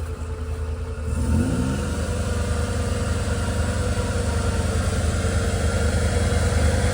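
A stuck vehicle's engine catches after a jump start and settles into a steady, loud running idle with a low rumble, continuing unbroken to the end.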